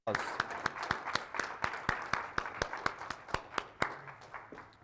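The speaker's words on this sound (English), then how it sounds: "Give yourself a round of applause." An audience at a talk in Colorado Springs claps in unison, steady rhythmic hand claps at a brisk even beat, fairly close and moderately loud, with faint voices underneath.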